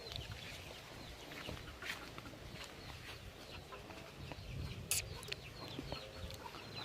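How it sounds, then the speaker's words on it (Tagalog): Backyard chickens cluck and call in scattered bursts across a garden with squash vines, with a sharp, brief squawk standing out midway over a steady outdoor background. "At yan yung aking mga manok."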